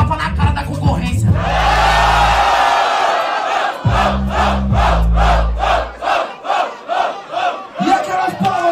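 Crowd at a Brazilian rap battle roars and whoops loudly, with a rhythmic chant pulsing in the second half; no distinct clapping stands out.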